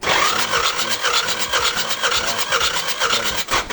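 Starter cranking of a Kia K2700 engine during a repeated compression test on cylinder number 3, a loud, steady pulsing churn with regular beats throughout, close up.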